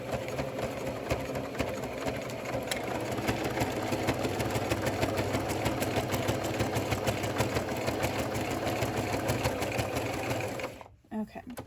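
Sewing machine stitches a fleece rat cage liner in a steady, fast mechanical whir that runs continuously before stopping abruptly near the end, loud and close.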